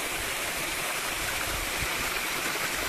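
Clean mountain water from a waterfall and stream rushes steadily over shell-encrusted rocks in a forest river, a dense continuous roar with no pauses and no voices.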